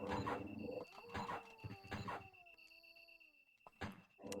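A dog in the Sega Saturn version of the video game Resident Evil gives short whimpering yelps and bark-like bursts amid game sound effects and tonal music, moderately loud and close.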